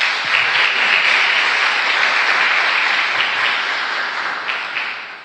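A church congregation claps loudly and steadily together in praise, a dense wash of hands that fades slightly toward the end.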